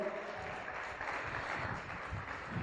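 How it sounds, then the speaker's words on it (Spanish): A congregation at a church service claps together in a steady, moderately loud round that runs evenly from start to finish with no voices over it. "¿Le parece si damos un aplauso fuerte al Señor?"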